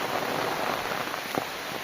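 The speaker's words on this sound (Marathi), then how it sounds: "जोराचा पाऊस आलेला आहे" Heavy rain falling outdoors in monsoon weather, a dense, even hiss of drops throughout, fairly loud and close, with a few sharper splashes.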